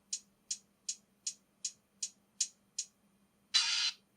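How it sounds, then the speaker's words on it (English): Eight crisp, evenly spaced closed hi-hat ticks, then a longer, sustained open hi-hat hiss over a faint low hum. "You can also hear this open hat."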